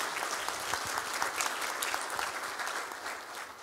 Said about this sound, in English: Please give this group a round of applause for spearheading and staying on top of it